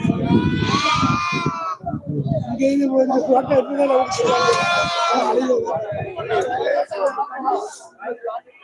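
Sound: goats and sheep bleating at a livestock market

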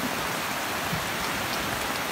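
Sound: rain falling

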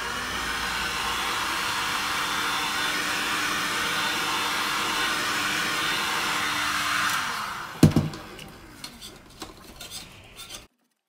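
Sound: hot air blower heating resin painting back

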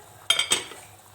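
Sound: closing the lid of a cooking pot

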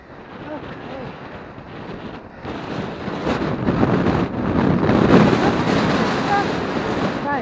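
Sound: wind blowing on hilltop walking route

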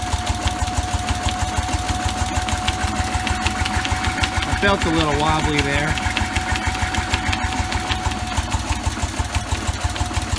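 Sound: Bessemer engine and dynamo running, occasionally missing

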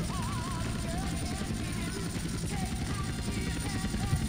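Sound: helicopter in video game GTA San Andreas

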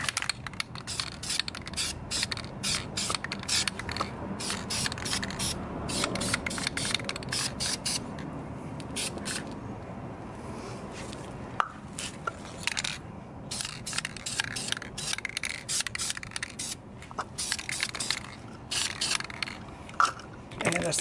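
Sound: spray painting brake calipers, second coat on front

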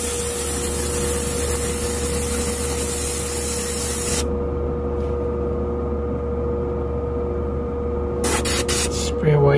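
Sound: Sparmax Max 3 airbrush spraying paint

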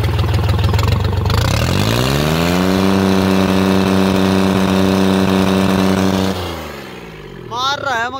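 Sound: motorcycle engine revving with changed silencer

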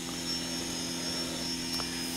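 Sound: tape drive motor spinning up to speed

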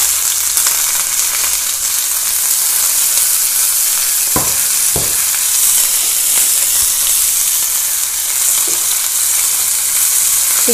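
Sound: onions frying in hot oil for aloo gobhi

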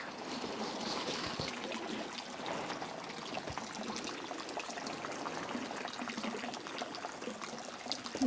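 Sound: holy water spring flowing

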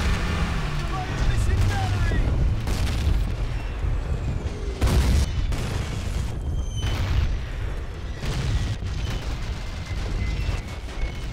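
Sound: artillery explosions in video game Call of Duty United Offensive

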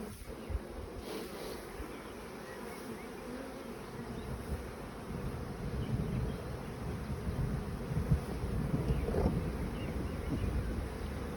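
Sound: honey bees buzzing as frames are shaken

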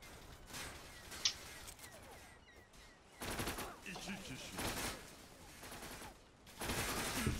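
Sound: gunfire in Zula video game

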